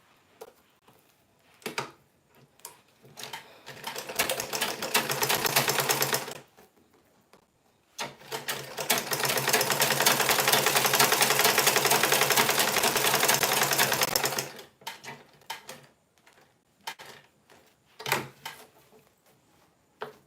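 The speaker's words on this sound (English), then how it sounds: "I will sew from here and here, and I will leave this opening to insert the wadding inside." A sewing machine runs close by while stitching fabric, in two long continuous whirring bursts separated by a short pause, with a few clicks and handling noises around them.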